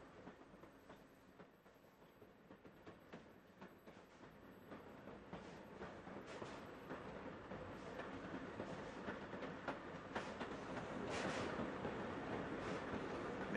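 A Setesdalsbanen train runs through sharp curves near Iveland station with steady rolling rail rumble and rhythmic clickety-clack from the wheels, growing gradually louder as it approaches.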